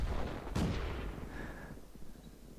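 A single heavy artillery blast in World of Tanks, a sharp loud boom with a rumbling tail fading over the next two seconds, heard alone without talk.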